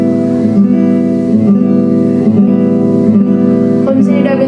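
Guitar strummed with the thumb instead of a pick, steady repeated strokes ringing loud and close with sustained chord tones throughout.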